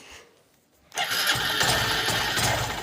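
A motorcycle engine catches after a kick start: near silence, then a sudden rough start that settles into a loud, steady, close idle running to the end.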